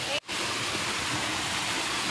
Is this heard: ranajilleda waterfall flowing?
yes